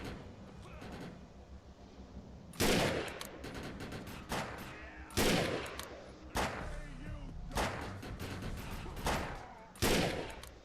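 Bolt-action rifle shots ring out in the video game Defiance, several loud sharp cracks spaced a second or two apart over ongoing game background noise and chatter.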